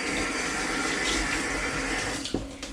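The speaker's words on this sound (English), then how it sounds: "gonna wash my hands" Tap water runs steadily into a sink as hands are washed beneath it, a close, even splashing rush with a few small knocks near the end.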